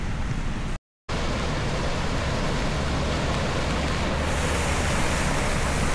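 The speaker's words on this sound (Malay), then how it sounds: "Sungai tempatan banjir ni air pun telah pun melimpah dan mula memasuki rumah-rumah penduduk di sekitar" Floodwater from an overflowing local river pouring into village houses in Perlis, a steady broad rushing roar, loud and continuous, cut by one brief dropout near the start.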